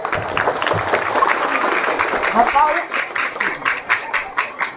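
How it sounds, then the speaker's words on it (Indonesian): Children and adults clap for girls who recited Quran verses, a burst of scattered applause that thins into a few distinct claps toward the end, with a voice speaking over it. "Tepuk tangan buat binian."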